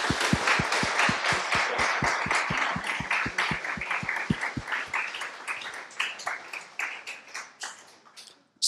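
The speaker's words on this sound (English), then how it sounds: "I think you guys deserve a really big round of applause." A crowd at a Le Wagon coding bootcamp demo day in Amsterdam gives a sustained round of applause, dense clapping that starts strong and slowly thins out.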